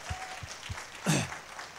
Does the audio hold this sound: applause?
yes